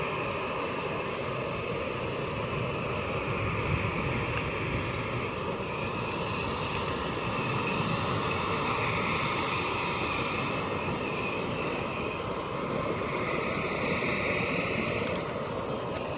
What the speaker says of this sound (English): We have another plane coming in,